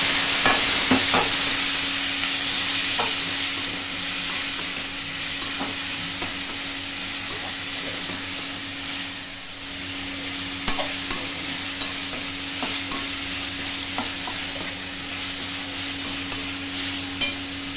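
Vegetables and tomato sautéing in a pan for sambar, a steady close sizzle and fry broken by scraping spatula stirs and light clinks throughout, with a low hum underneath and no talking.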